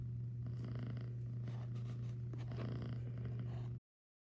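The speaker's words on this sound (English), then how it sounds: "but she's still purring" Rosie, a cat recovering from surgery, purrs steadily up close, a continuous low rumbling hum that holds for several seconds before cutting off.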